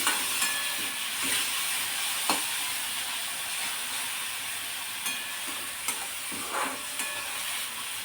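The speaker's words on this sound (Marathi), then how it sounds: "तेल गरम झालं, यामध्ये आपण हा बारीक केलेला कांदा टाकून घ्यायचा" Chopped onion sautés in hot oil, a steady, close frying hiss with occasional soft stirring taps and scrapes, continuous and without talk.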